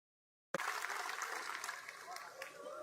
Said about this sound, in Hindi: एक बार जोरदार तालियां बजा के।